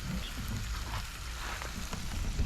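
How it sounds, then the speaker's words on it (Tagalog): Corned beef sautés in a pan, a steady soft sizzle and crackle with faint stirring, close and fairly quiet, with no talk. "Ah, corn beef, gigisa din yun."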